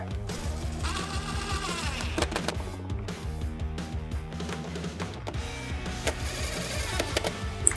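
An impact driver with a number 4 hex bit runs steadily in a CNC workshop setting, giving a continuous buzzing, rattling drive with rapid rhythmic hammering throughout.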